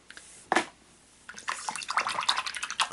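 A paintbrush rinsed in a water jar while swatching watercolor scribble sticks, with a brief splash, a pause, then a stretch of close, irregular swishing and sloshing.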